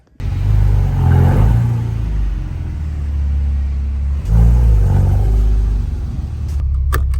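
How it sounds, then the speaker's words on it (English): Deep engine roar and exhaust rumble from a Porsche Cayman S on the road, loud and close, swelling early, easing, then surging again as it accelerates. "Roar of the engine is different. The exhaust."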